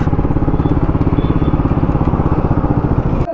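KTM Duke 250 motorcycle engine racing a Duke 200 in a highway drag race, a loud, close, rapid pulsing exhaust drone held steady throughout.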